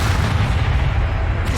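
A Confringo fire spell blast in the Hogwarts Legacy video game, a loud, heavy booming burst with a dense low rumble that fills the brief moment, with no voices.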